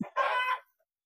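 A chicken on a small Malaysian backyard farm where egg-laying hens are kept gives one short, loud, harmonic call, about half a second long, then falls silent.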